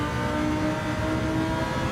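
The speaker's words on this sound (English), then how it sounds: "you can just listen to the engine" A race car engine in the Ultimate Racing League video game on the Lago Maggiore track, droning loudly and steadily at high revs throughout, with no talk over it.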